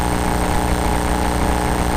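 A small airplane's piston engine and propeller drone steadily from inside the cabin, a loud, continuous hum with no talk over it.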